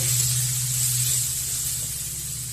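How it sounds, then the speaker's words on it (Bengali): Spice masala of salt, turmeric, chili powder and coriander-cumin powder fries in a pan for an egg and potato curry, giving a loud, steady close hiss over a low hum. "এখন সব ভালো করে মিশিয়ে ভেজে নেব।"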